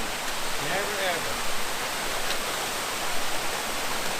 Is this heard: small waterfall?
yes